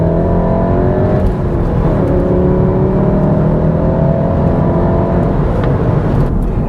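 The 2016 VW Golf R MK7's 2.0-litre four-cylinder turbo petrol engine accelerates, with a loud, steady cabin drone whose pitch climbs, drops briefly at a gear change and rises again.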